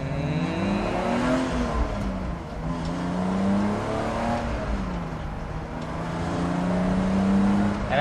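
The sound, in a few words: BMW E46 330ci engine and exhaust with headers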